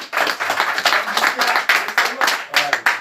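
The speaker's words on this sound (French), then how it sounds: "On l'acclame. On l'applaudit." Audience clapping and cheering for the president of an association, a dense burst of hand claps with some voices mixed in, steady and fairly close for a few seconds.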